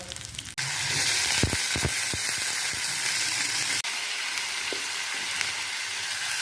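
Onions hit hot oil in a pan with a sudden burst of steady, loud sizzling that crackles on, broken by a few sharp pops and a brief stir partway through.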